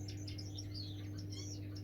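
Chestnut-breasted mannikin finches chirp throughout an aviary shed, a steady scatter of small high tweets over a constant low electrical hum, moderately close with no talking.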